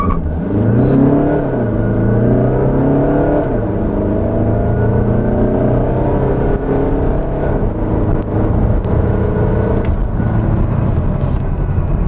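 An Audi Q3 Sportback 35 TDI's 2.0 diesel engine revs loudly and steadily as it accelerates, pitch climbing through gear changes, with a constant rumbling drone close by.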